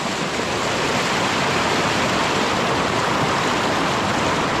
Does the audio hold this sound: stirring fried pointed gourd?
no